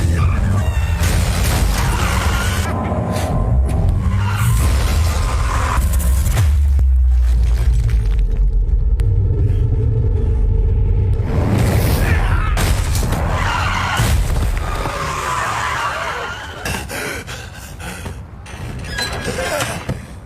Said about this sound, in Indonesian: Sony yang menyadari Juki kabur menggunakan mobil taksi lantas segera melakukan pengejaran